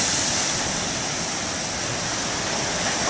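Large ocean waves roar as a loud, dense, continuous wash of surf, steady for the whole few seconds with no voices.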